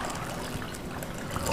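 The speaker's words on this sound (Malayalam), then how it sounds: "വഴറ്റുന്ന സമയത്ത് ഇനി ഇതിലേക്ക് ഞാൻ വെള്ളം ചേർക്കും" Water pours steadily into a Kottayam-style fish curry, a continuous close splashing trickle throughout the short moment, with no talk.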